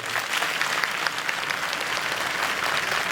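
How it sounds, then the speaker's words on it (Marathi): Loud, dense applause from a live audience at a comedy games event, a continuous roar of clapping hands that holds steady throughout with no pause. "दोन्ही हात वर करून जोरदार टाळ्या 10 सेकंद वाजू द्या"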